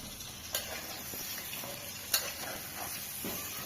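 Fried meat is tipped into a pot of lentils and stirred, a soft steady sizzle broken by a few sharp scraping spoon strokes, close but fairly quiet in a village kitchen.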